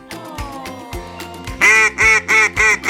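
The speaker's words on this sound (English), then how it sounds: "it's a cute yellow duck" Cartoon duck in a toddler farm-animal puzzle game gives four loud, evenly spaced quacks after a short stretch of soft background music.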